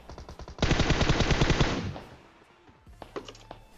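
An M4 rifle in the video game PUBG Mobile fires a rapid, loud burst of automatic shots lasting about a second and a half. A few scattered clicks and faint game sounds follow.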